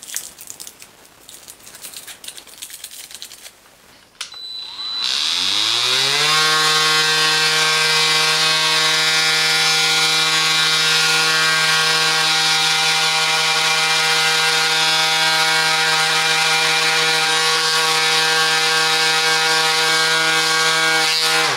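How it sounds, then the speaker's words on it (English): A Parkside PMSA 20-Li A1 cordless 20V multi sander spinning up and running steadily on wood, a loud continuous whine after a short start-up sweep. "You can use this sander for any type of wood."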